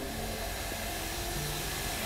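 Steady hiss of steam escaping from an electric iron heated top and bottom, used for pressing fabric while sewing a decorative cushion; a continuous, even broadband rush with no voices.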